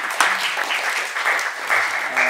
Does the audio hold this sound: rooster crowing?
no